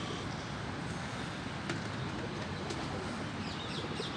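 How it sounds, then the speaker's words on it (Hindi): A teddy pigeon coos softly and steadily close by, with faint chirps and occasional wing movement in the background. "टैडी कबूतर है ये जेन्युइन टैडी प्योर"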